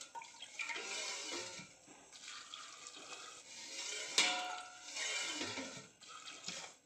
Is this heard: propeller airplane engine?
no